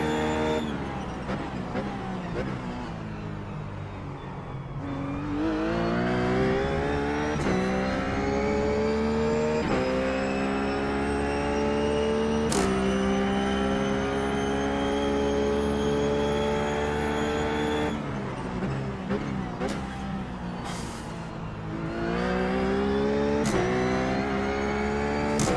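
Simulated Ruf GT3 race car engine in iRacing at Sebring, a loud continuous roar with rising pitch sweeps through gear shifts as the car accelerates, steady and up close for the whole stretch with no talking.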